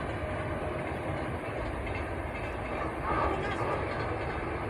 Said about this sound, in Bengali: এই 11 জেলায় আমার সুপারফাস্ট ট্রেনটা যাচ্ছে, রাঁচি হাওড়া সুপারফাস্ট, ওই ট্রেনটা যাচ্ছে হাওড়ার দিকে